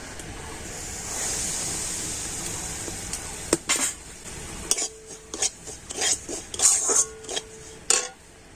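Semolina poured into hot ghee in a pan for sitabhog sweet, a steady hiss at first, then a run of scraping and clinking spoon-against-pan strokes, close and moderately loud, no talking.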